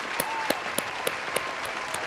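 A small audience applauds a musician who has just been introduced. The clapping is soft and steady, with a few sharper individual claps standing out at irregular intervals.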